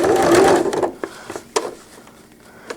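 A sewing machine runs a short burst of stitches on a cloth diaper cover with gussets, then stops for a few light clicks and taps as the presser foot is lifted and the fabric is turned.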